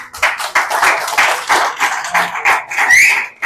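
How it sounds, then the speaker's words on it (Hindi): An audience claps at an institute's grand opening ceremony in Lahore. Many hands beat in irregular bursts of close, loud clapping that swell and dip, with brief cheering near the end. "भरपूर तालियां।"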